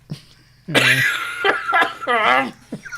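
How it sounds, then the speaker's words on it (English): A sudden close cough bursts out, followed by a few more short coughing fits mixed with voiced sounds. "Oh, you made me cough at that"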